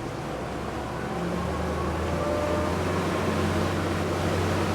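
A Boston Whaler 220 Dauntless motorboat engine drones steadily at moderate distance at about 1700 RPM, its tone gradually building as it gains speed toward planing, with broad rushing noise around it.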